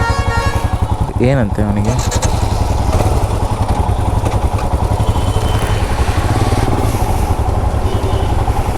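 Royal Enfield Himalayan BS6 motorcycle engine running steadily throughout an early-morning road ride, a constant low rumble under people talking, with a brief bleating-like sound near the start.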